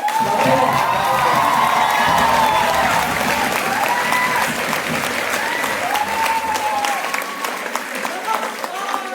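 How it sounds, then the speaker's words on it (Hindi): An audience at a theatre play at Banaras Hindu University applauds loudly and steadily, with scattered cheers and whoops over the clapping, and speech breaks in at times. "और एक बार आप अपने लिए फिर से ताली बजाइए।"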